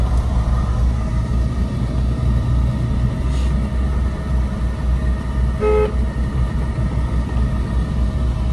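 Car horn honking once on a narrow village lane, a short tonal toot rising briefly above a steady low engine rumble from the car driving over a rough road.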